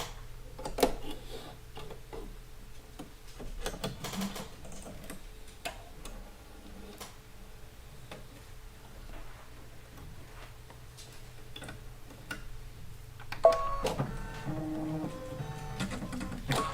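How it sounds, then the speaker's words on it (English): A sewing machine's push-button automatic needle threader works alone, with soft mechanical ticking and clicking through a quiet stretch before a louder whirring, clattering burst of motor action near the end. "automatic needle threading where you just push a button and it threads your needles"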